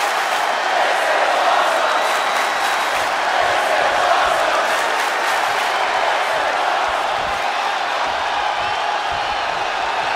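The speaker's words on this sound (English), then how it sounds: "The roar of this crowd has been building," Roaring arena crowd in WWE 2K20 at a SummerSlam wrestling event, a dense, loud, steady wash of cheering and whooping that never lets up.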